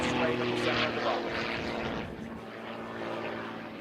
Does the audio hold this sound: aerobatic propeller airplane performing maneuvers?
yes